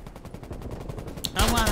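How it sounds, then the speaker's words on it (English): Gunfire in Call of Duty: Black Ops Cold War erupts suddenly as a loud burst of rapid shots after a quieter stretch of game ambience. "Surprise shot."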